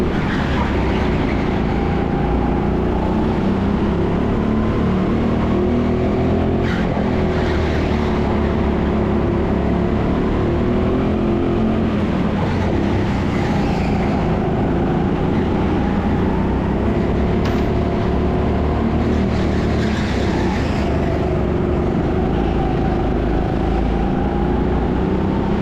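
Go-karts racing on an indoor TeamSport track in Sheffield, a continuous loud drone of engines close by with shifting pitch as karts jostle and defend positions.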